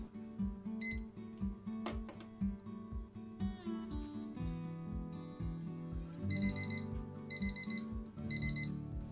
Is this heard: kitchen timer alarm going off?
yes